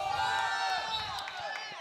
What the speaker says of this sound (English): we can hear behind us the Brazilian delegation and the Brazilian teammates cheering for Pedro de Almeida on mat A